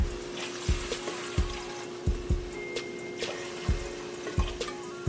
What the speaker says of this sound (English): Now I'm gonna add 2 cups of water.